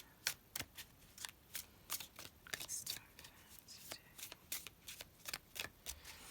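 Tarot cards are shuffled in quick, crisp riffles and taps, close and soft, while a quiet voice speaks briefly.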